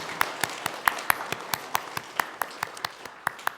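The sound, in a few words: church congregation applause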